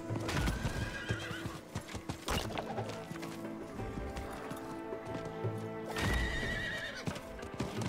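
A horse in the video game Diablo IV gallops with quick clip-clopping hooves and lets out two loud whinnies, one early and one near the end, over a busy layer of game sound.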